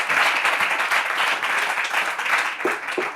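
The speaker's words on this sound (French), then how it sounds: "On applaudit très fort pour Manassé." An audience at a Bible quiz claps loudly for a contestant named Manassé, a thick sustained wash of applause from many people, with a few sharper individual claps standing out near the end.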